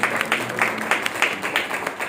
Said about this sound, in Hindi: आप लोग अपने लिए जोरदार तालियां बजाएं